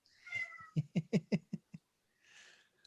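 A cat meows in a quick series of six or so short, rising cries, close by, with faint breathy noise before and after.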